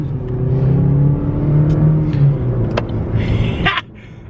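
A small car accelerates through a snowstorm, its engine droning and rising steadily up close for several seconds before cutting off abruptly near the end, with a few faint clicks and rattles.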